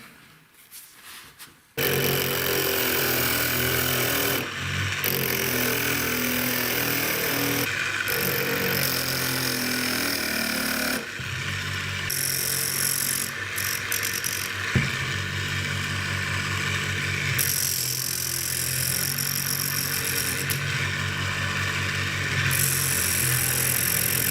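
A metal blank for a winter perch fishing lure is ground into shape, giving a steady, loud, close whirring grind that runs almost without a break after a short quiet start.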